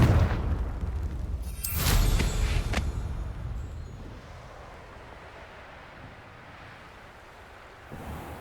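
A Confringo blasting curse in Hogwarts Legacy fires off as a sharp crackling burst followed by a booming impact, then a fading rumble that settles into quiet ambience.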